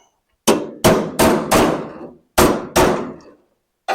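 A hammer pounds a steel sill panel down between plug welds on an MGA repair, six sharp, ringing metallic strikes in two close groups of four and two, each decaying quickly, near and loud.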